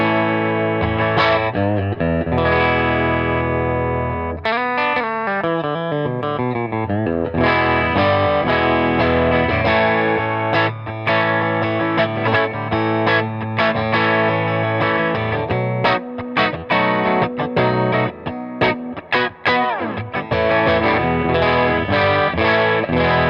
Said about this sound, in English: Just clean Telecaster, bridge pickup, volume tone all the way up.